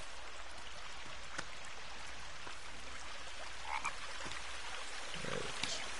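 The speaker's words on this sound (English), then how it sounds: "I'm hearing frogs." Frogs croak in a forest setting in the survival video game The Forest, scattered calls over a steady ambient wash, with a few brief rustling and tapping sounds and no talk.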